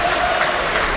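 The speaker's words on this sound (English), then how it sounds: "Gets a decent applause here, does Callum Roberts." Football stadium crowd at Scunthorpe United versus Southport applauding, a brief, steady wash of clapping and crowd noise.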